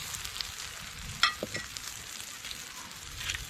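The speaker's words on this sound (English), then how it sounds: "So we just start fry the fritters" Curry lobster fritters in coconut milk batter sizzle steadily in hot oil, a soft continuous crackle with a brief sharper spatter as more pieces drop in.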